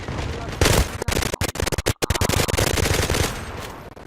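M4 rifle automatic fire in the Turkish online shooter Zula, with loud rapid bursts broken by short pauses, the gunshots filling the whole sound.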